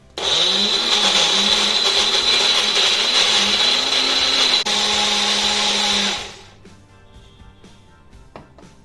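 A blender whirs loudly and steadily for about six seconds, grinding mango dessert ingredients into a fine paste, then cuts off and spins down to quiet rattling and small clinks.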